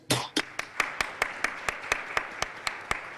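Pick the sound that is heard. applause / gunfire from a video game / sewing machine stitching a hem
applause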